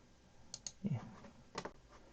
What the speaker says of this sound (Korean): 이렇게 해서 컨트롤 S 키를 눌러 주시면 되겠습니다.